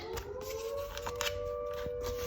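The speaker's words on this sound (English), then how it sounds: "there's the siren going" A siren holds a steady, wavering tone in the distance, fairly faint, with soft rustling and shuffling close by.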